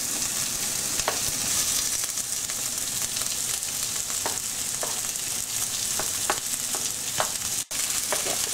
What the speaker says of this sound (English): Get all the peppers in and we'll just gently stir fry those again for a few minutes